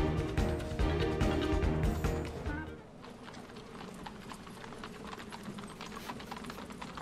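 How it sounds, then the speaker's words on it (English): Rapid horse hooves clip-clop steadily with music and sounds from the video game Kingdom Hearts Dream Drop Distance; the busy mix thins after a few seconds while the hoofbeats keep going. "Look at those horses, man."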